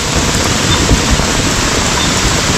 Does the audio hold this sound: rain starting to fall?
yes